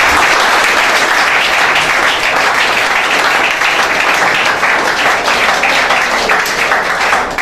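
Loud, dense applause from a church congregation, clapping for God during a deliverance service, steady and sustained throughout with no break.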